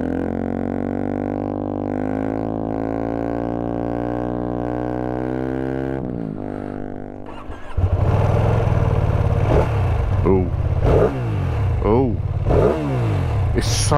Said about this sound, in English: So loud, this bike.